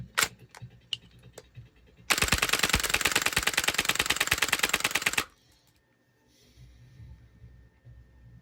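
A Marushin airsoft gas blowback gun fires cap-loaded shells: a few sharp single clicks, then a loud, rapid burst of rattling shots with cycling action lasting about three seconds, followed by quiet mechanical handling.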